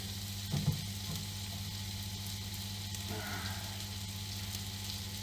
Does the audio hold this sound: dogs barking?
no